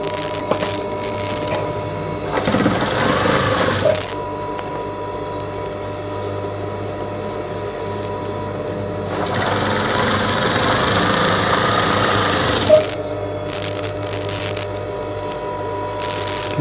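A sewing machine stitches curtain fabric stiffened with interfacing, its motor whirring in two longer runs of rapid needle chatter, separated by a quieter steady hum and short pauses, close and with no voices.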